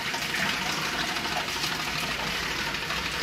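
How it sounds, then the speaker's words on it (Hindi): A 12 volt DC water pump pushes mains line water in a steady, loud rush of flowing water over a low motor hum, continuous and close, without speech. "और ये लाइन का पानी आ रहा है और मैं आपको प्रेशर भी दिखा सकता हूँ इसका।"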